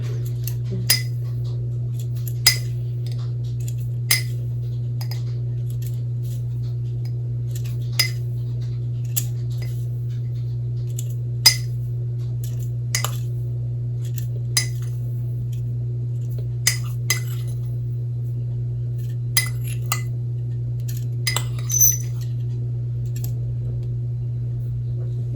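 A metal measuring spoon clinking against a container while teaspoons of oregano are measured out in a home kitchen, a series of light, irregular taps and clicks over a steady low hum.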